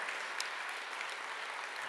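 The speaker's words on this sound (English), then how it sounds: "So big round of applause to all of us here." Applause from the audience at the HYSEA Summit and Awards in Hyderabad, an even, distant-sounding roar of clapping filling the room at moderate volume with no speech over it.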